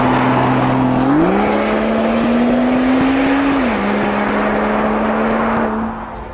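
2015 Volvo V60 Polestar performance station wagon driving, a steady loud engine drone with a couple of pitch shifts, close and continuous, fading slightly at the end.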